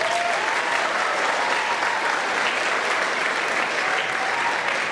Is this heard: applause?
yes